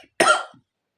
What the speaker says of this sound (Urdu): کچھ گلا خراب ہے، کھانسی بھی لگی ہوئی ہے